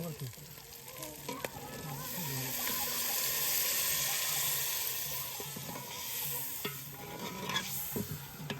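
Chicken curry being stirred in a pot outdoors, with scraping and clinking over a steady sizzling hiss, a few sharper knocks scattered throughout.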